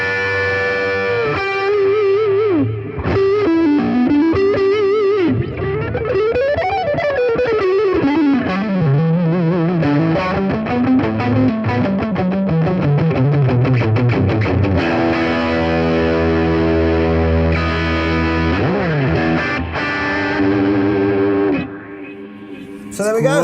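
Electric guitar played through a Zoom G3Xn multi-effects unit with a delay pedal placed before the reverb, giving sustained, echoing notes and chords with a washy, distorted tail that rings continuously throughout.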